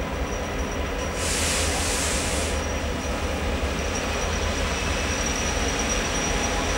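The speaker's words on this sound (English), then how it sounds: "Your 15 train service has just arrived on platform 3." A train rumbles steadily arriving at a station platform, with a brief high-pitched hiss of brakes or air near the start.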